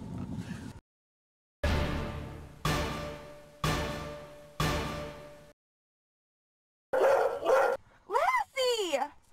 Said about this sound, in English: Our dog Lassie has come home